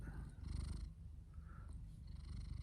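A cat purrs close by in a steady, rumbling rhythm, soft and low, with no one speaking.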